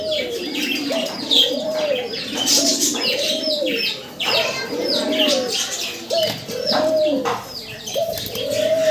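Pigeons, a red-crested pair kept for sale, coo repeatedly in rhythmic rising-and-falling phrases close to the microphone, with faint chirps and a wing flutter in the background.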